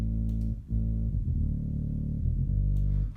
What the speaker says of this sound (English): It's a saw wave,